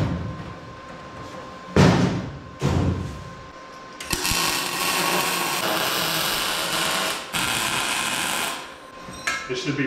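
MIG welder tacking together a welding cart built from a service truck ladder rack: a few short crackling bursts, then a longer steady buzzing weld sizzle up close, with clanks and thuds of metal around it.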